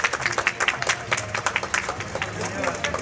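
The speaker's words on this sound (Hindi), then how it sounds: "प्रशासनिक अधिकारियों एवं नगरवासियों ने ताली बजाकर उनका स्वागत किया।" Officials and townspeople clapping outdoors to welcome a recovered COVID-19 patient home in Sumerpur, Pali, a few seconds of uneven scattered applause from a small nearby crowd.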